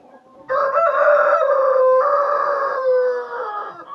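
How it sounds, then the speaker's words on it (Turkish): A single loud, close rooster crow, drawn out over about three seconds with a short break in the middle, otherwise alone. "Tabii horozumuz da var."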